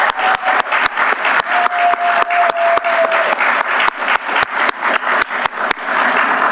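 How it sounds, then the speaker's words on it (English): A room full of people at a city council meeting applauds steadily, with sharp individual claps standing out over the dense, continuous clapping throughout. "So I'm going to ask us all to give a round of applause to Dwayne Prince Holmes."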